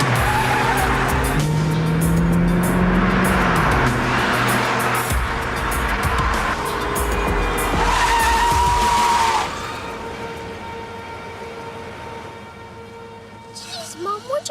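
A car driven evasively with tires skidding and squealing loudly, engine roaring throughout, then fading to quieter road noise near the end; voices speak over it.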